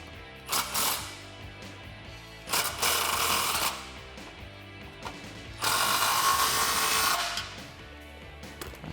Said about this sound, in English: I'm going to tighten it down with the bolt head facing out.